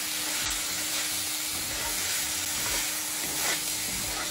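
Cauliflower rice sizzles steadily in a hot pan as it is stirred, a dense close frying hiss with soft scraping strokes throughout and no talk.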